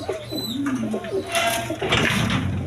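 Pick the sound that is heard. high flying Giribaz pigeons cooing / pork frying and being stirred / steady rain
high flying Giribaz pigeons cooing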